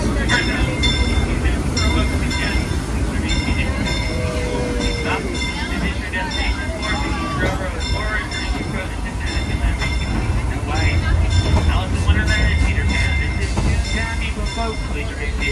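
The small narrow-gauge Disneyland Railroad train rattles and clanks along the tracks with rhythmic wheel clicks, while an announcer's voice talks over the ride.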